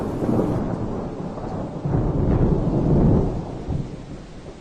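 A thunder sound effect with mist in an animated scene rolls as a low rumbling crash that swells and fades over a few seconds, fairly quiet and without speech.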